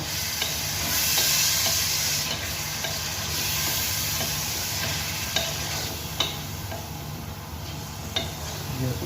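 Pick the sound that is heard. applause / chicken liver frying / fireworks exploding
chicken liver frying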